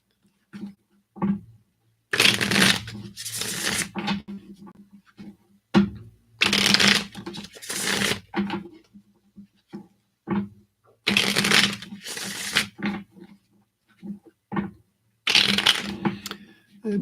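Tarot cards are shuffled up close in several loud riffling bursts of a second or two each, separated by quieter taps and handling sounds, with no talking.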